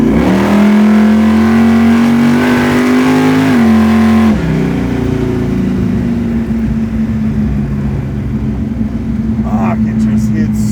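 Supercharged 800-horsepower big-block Chevrolet Camaro accelerating hard from inside the cabin, a loud continuous engine roar that holds steady, dips briefly, then carries on under faint talk.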